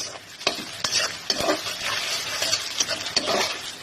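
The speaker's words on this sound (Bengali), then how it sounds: "পেঁয়াজটা নাড়তে হবে যতক্ষণ পর্যন্ত বাদামি কালারটা না চলে আসে, ততক্ষণ পর্যন্ত এটা নাড়তে হবে" Chopped onion fries in a pan with a loud, close sizzle, and a spatula scrapes and knocks rhythmically as it is stirred.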